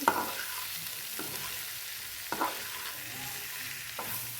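A spoon stirs spices into a simmering, sizzling yam and dried prawn curry in a pan, with a soft steady bubbling and frying hiss punctuated by a few sharp scrapes against the pan.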